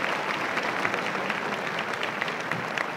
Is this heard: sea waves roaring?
no